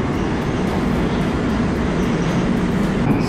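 A Rusich-type Moscow metro train running, with a loud continuous rumble and roar of the car and steady wheel noise throughout, no talk.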